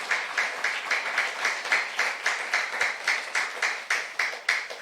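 A church congregation at a Saturday youth worship service claps in steady unison, with about three evenly spaced claps per second throughout, moderately distant and without talk.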